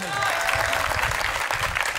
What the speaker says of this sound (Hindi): 10 मिनट के लिए ताली बजाओ जोर से।